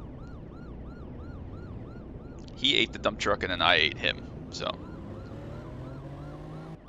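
Police car siren in the racing game Need For Speed Porsche Unleashed, a steady rising-and-falling wail running throughout over engine drone, with someone talking over it midway.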